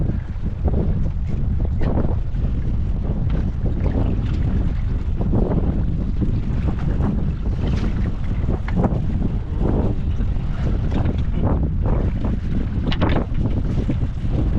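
Strong wind buffets the microphone in heavy, continuous rumbling gusts, loud and close, with the wash of open water beneath.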